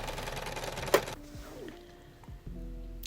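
A sewing machine stitches a placket onto the crotch seam of a front left shorts panel, giving about a second of dense, rapid mechanical clatter close by before it stops and leaves a quiet room with faint handling noises.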